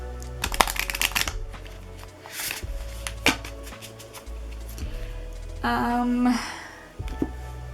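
A Moonology oracle card deck is shuffled in several quick riffling bursts, close and crisp, with light tapping and handling between them.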